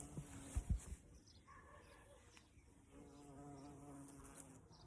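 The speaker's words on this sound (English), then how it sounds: "I'll show you the bee before though." A bee buzzing nearby, a faint droning hum that rises and wavers after a few soft knocks at the start, with no voices.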